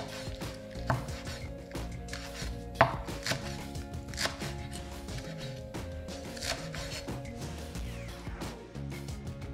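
A good knife chops food finely on a wooden board in a kitchen, a rapid, close series of crisp taps and knocks against the wood, steady throughout with no talking.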